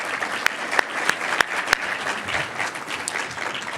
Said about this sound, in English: Could I have a round of applause for our planning committee